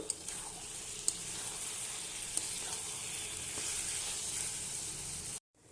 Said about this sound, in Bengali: এইভাবেই একটু কষাবো কিছুক্ষণ ধরে